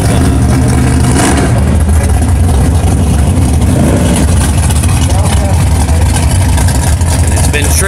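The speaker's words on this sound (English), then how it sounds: "Believe it or not, this is a 1966 Chevy Nova." A 1966 Chevy Nova race car built for the track revs loudly up close, a dense, rough engine roar that stays constant throughout.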